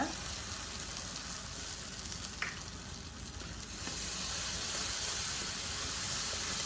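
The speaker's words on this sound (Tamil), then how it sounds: "இப்போ வந்து இந்த மசாலாவை போட்டு நல்லா திரைக்கிடணும், பச்சை வாசம் இல்லாமல்" Masala and turmeric powder frying in a pan for an apple mor kuzhambu, a steady soft sizzle and hiss throughout, swelling slightly louder partway through, with no talk.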